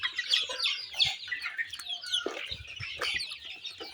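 Around a hundred native chickens being fed a midday meal cluck and chatter softly together in a faint, continuous flock murmur, with occasional pecking and scratching sounds.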